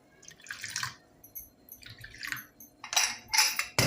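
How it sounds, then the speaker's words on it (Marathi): Water splashes in short bursts into a pressure cooker holding three raw mangoes, with intermittent pours and drips and quiet gaps between them. "त्याच्यामध्ये 1 वाटी पाणी घालूया"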